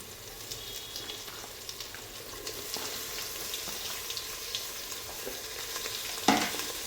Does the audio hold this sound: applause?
no